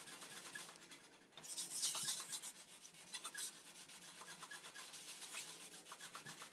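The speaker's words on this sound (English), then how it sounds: "get my finishing pad and rub the edges again" Finishing pad rubbed over the edges of a varnished wooden coat hook board, a soft, steady scratchy rasp that swells louder midway and keeps going, fairly quiet and close with no talking.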